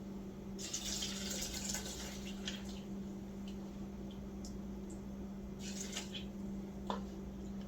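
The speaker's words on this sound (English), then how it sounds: "I'm adding water" Steady running water pours and splashes into a blender jar, a continuous hiss with a low hum beneath and a few faint clinks.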